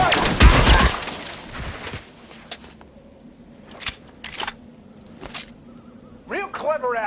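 Gunfire in the crime game L.A. Noire opens with a loud burst of shots, then sharp single cracks ring out at intervals over a quieter stretch, while someone shouts in between.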